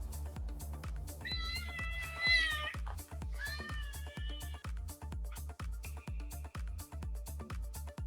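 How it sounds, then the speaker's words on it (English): A cat gives a few loud, drawn-out meows close by, some with a wavering cry, over a steady pounding music beat. "I got my kitty cat."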